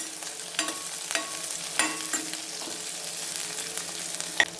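Sliced onion and curry leaves frying in a pan for a beetroot fry, a continuous soft sizzle broken by several light scraping stirs, close and without voices.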